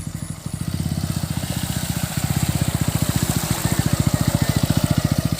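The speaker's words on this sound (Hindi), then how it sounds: "हालत खराब हो गया है बाइक का।" A motorcycle engine idles close by, a steady, loud, rapid putter of even thumping pulses that runs throughout with no talking.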